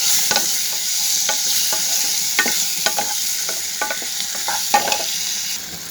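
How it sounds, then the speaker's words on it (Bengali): Stinging catfish sauté in a pan with a continuous hiss of oil, broken up by repeated spatula scrapes and stirs at an uneven rhythm, close and fairly loud. "শিং মাছগুলোকে ভালো করে কষিয়ে"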